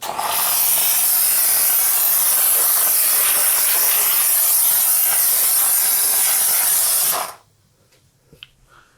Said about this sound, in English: let's get some steam on it.